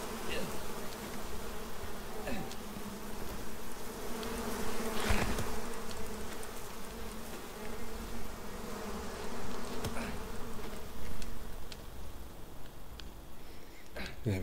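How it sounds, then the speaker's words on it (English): Bees swarm around a nest in the survival video game Icarus, a continuous close buzzing drone that swells and fades throughout, with a few sharp clicks and thuds over it. "let's try and ignore the bees for a minute"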